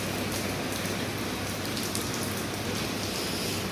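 Steady rain falling on a village house, a dense, even hiss of drops pattering on surfaces nearby, constant in loudness throughout with no voices.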